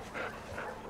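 In The Last of Us Part II, a dog makes soft whimpering whines in two short, faint pulses with light panting, close and quiet.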